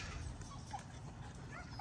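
XL pit bulls whimper and yip in short bursts inside a kennel cage over a steady low rumble, fairly close by, with no clear voices.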